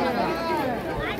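Crowd chatter at a busy village temple fair (yatra): many overlapping voices form a dense, continuous babble close by, with no single voice standing out.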